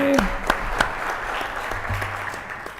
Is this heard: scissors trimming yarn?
no